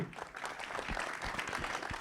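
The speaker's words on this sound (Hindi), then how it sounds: "तो चलिए जी एक बार जोड़ा ताली होनी चाहिए" An audience at a film trailer launch event claps together, a busy patter of many hands with distinct sharper claps standing out, fairly close and filling the short stretch.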